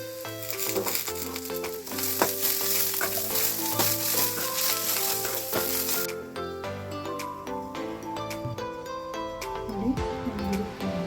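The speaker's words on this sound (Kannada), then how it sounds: "ಅದ್ರ ಜೊತೆಗೆ ಕೊತ್ತಂಬರಿ ಮತ್ತು ಪುದೀನ ಸ್ವಲ್ಪ ಹಾಕ್ಕೊಂಡು ಫ್ರೈ ಮಾಡ್ಕೊಳ್ಳಿ" Coriander and mint leaves fry in a pan for a cauliflower gravy, giving a continuous close sizzle with occasional clinks of stirring, and no talking.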